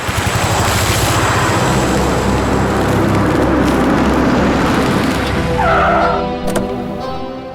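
A car on a roadside near a dhaba brakes hard, tires squealing loudly over the engine for several seconds before the skid fades out with a short thump near the end.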